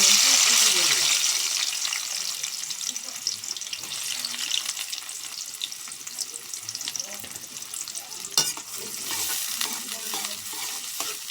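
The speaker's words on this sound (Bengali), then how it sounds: "পেঁয়াজটা আমি সুন্দর করে নরম করে ভেজে নেব" Chopped onion fries in hot oil in a kadai, a steady broadband sizzle with scraping stirs, loudest at first and then settling, a few sharper clatters near the end, no talk.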